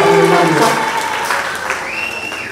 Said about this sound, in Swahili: Pigieni Bwana makofi mengi kabisa.